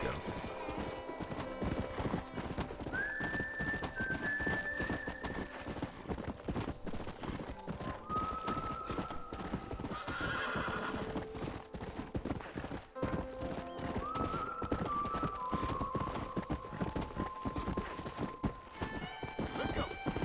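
Horse hooves clip-clop steadily in the Red Dead Redemption video game, with occasional whinnies over a continuous ambient game backdrop and no speech.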